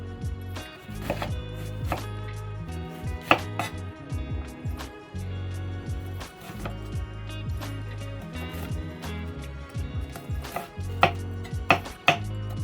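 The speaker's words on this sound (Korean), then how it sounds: "적양파를 먹기 좋게 썰어주세요." A knife chops red onion on a cutting board for a chickpea and couscous salad in a series of crisp, uneven taps. The cuts come in close bursts, sometimes doubled, with no voices.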